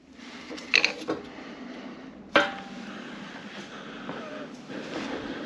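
A washer is dropped onto the pinion gear stack of an 02J manual gearbox, giving a couple of small metallic clicks early on and then a sharper single clink, with faint workshop background between.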